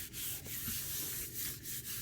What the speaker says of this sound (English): So before I let it dry, I'm going to burnish it well.